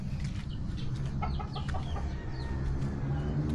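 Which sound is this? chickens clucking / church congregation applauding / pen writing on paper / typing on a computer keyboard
chickens clucking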